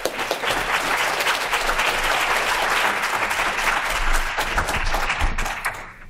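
A conference audience applauds to welcome keynote speaker Jim Keane, producing a full, sustained wash of clapping that stays steady and loud before tapering off at the end.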